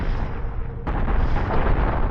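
Thrusters on a spaceship being shot and exploding in a video game tournament match, a sudden blast kicking in about a second in and then a dense, loud, rumbling roar of continued explosions.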